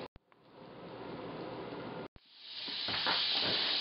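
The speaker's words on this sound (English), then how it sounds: "So my butter is all melted and starting to burn" Butter sizzles and hisses in a hot pan, a steady soft frying hiss that briefly cuts out, then swells louder and brighter with crackling spatter, close and alone without talk.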